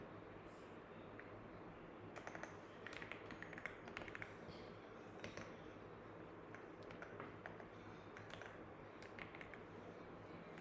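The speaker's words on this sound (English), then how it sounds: "I need to manually type that in" Someone types code on a computer keyboard, producing quiet, irregular clusters of clicks and taps over a steady low background hum.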